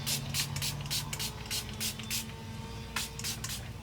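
Water spritzed from a spray bottle onto hair to dampen it before rope braiding, a series of short bursts in quick clusters with soft handling noise between them and no talking.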